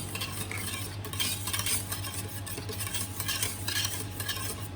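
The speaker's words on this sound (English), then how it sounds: "So I'm going to show you with the hand whisk." Cream for a cold-set peaches and cream cheesecake is mixed with a hand whisk in a bowl, producing a steady, fast, close-up rhythmic swishing and tapping that runs throughout with no talking.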